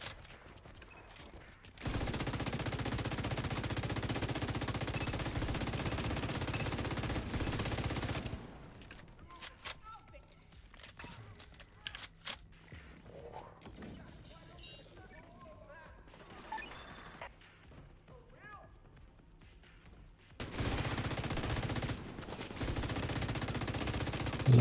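Light machine gun fire in a video game: long sustained bursts of dense, rapid gunfire at the start and end, with quieter scattered game sounds between them.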